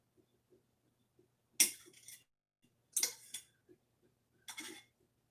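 A metal utensil scrapes across a nonstick pan while butter melts, three distinct scraping strokes spaced evenly with faint sizzling ticks between them, close and quiet with no talking.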